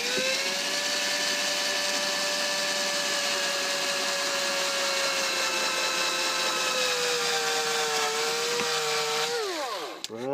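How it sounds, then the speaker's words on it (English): A cordless drill motor whines steadily at high speed for several seconds, then its pitch sags and dies away as it slows near the end with its battery running flat. "And the drill's running out of battery."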